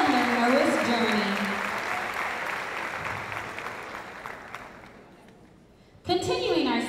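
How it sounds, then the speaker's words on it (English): A ceremony audience applauds retirees at an end-of-year awards event, a dense wash of clapping that fades gradually, then a voice briefly starts speaking over a renewed burst near the end. "let's give them one more loud and proud round of applause for our retirees"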